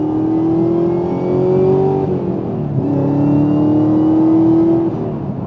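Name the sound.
car accelerating to pass another car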